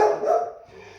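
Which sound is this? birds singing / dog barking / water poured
dog barking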